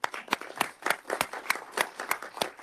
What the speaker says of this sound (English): you equally deserve a round of applause